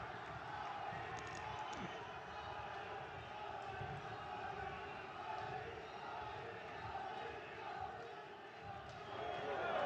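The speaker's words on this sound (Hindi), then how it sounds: "जोरदार तालियां नाल स्वागत।" Crowd applause welcoming PM Narendra Modi at a public event in Jalandhar Cantt, Punjab: a dense, steady wash of clapping and crowd noise fills the whole stretch, with a voice talking over it.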